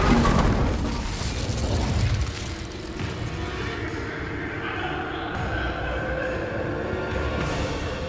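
A Bombarda blasting spell in Hogwarts Legacy goes off with a heavy boom and crumbling burst, followed by a long rumbling, debris-filled tail under background game ambience.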